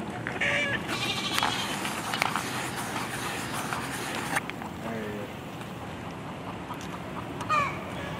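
Goat bleats rise over steady rushing wind or water noise, a few short calls scattered through, with faint voices nearby.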